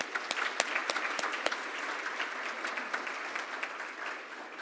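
An audience claps for guests at a Rotary Club of Tulsa meeting, steady dense applause from a roomful of people with sharp individual claps standing out near the front, sustained throughout at moderate loudness.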